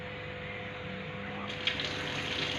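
Water running steadily from a sink tap opened with the elbow before handwashing in a clinical skills lab, a continuous hiss that grows brighter partway through, with no talking.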